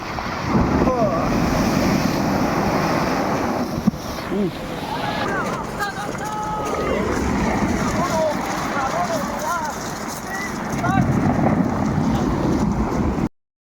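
Strong sea waves break on the beach at Barangay Buangan, a loud continuous wash and roar with gusty wind noise on the microphone. Voices can be heard faintly in the background, and the sound cuts off abruptly at the end.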